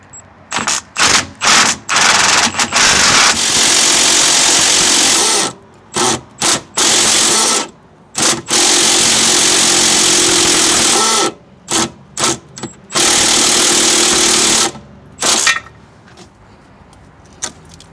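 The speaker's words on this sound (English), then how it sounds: "down bottom, I'll be using a 13mm socket for removal." A sway bar end link nut on a 2013 Chevy Impala being spun off with a 13mm socket on a power tool, producing loud, close rattling bursts of impact hammering, several short ones and a few long sustained runs separated by pauses.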